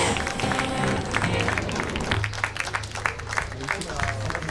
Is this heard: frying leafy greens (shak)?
no